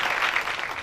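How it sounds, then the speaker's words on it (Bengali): A prize-giving ceremony crowd bursts into applause, a short, loud, dense wash of many hands clapping together with no speech heard. "একটা জোরে হাততালি"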